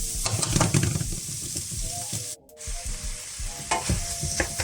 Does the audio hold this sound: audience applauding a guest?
no